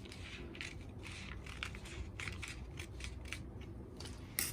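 Scissors snip through a paper shirt pattern along the neckline in quick, faint, closely spaced cuts with crisp crunching, alone with no talking.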